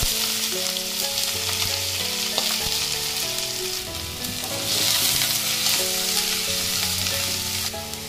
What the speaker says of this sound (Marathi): कांदा फ्राय होते